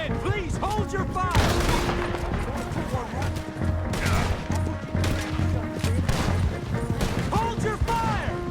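Red Dead Redemption 2 gunfire: a dense, continuous volley of rifle and pistol shots cracking from several directions during a shootout, with shouted voices among the shots.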